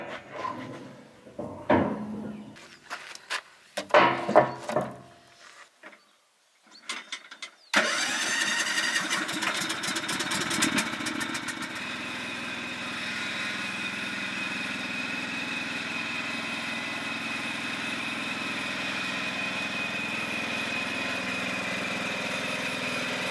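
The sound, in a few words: new ride-on lawnmower engine starting and idling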